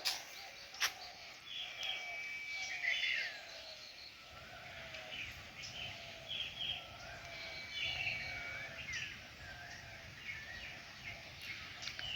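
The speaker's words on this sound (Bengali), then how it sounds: "দেখছেন পাখির ডাক, ভালো লাগতেছে না আপনাদের শহর? পাখি ডাকতেছে" Several birds, including doves, call and chirp intermittently in thin, high whistles against a quiet morning outdoor background, fairly distant and spaced apart.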